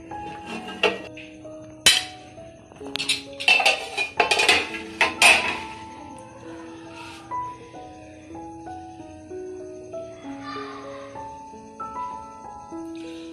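A utensil clanks and scrapes against a pan and plate as dhaba-style mutton bhuna is served. Sharp, irregular clinks bunch together early, then give way to quieter, sparser taps.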